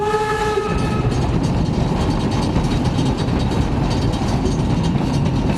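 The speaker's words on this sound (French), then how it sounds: "La B52 arrive à Treyne." Steam train B52 of the Chemin de Fer à Vapeur des Trois Vallées pulling into Treyne station, with a loud steady rumble of wheels and rail noise and a sustained horn or whistle tone at the start.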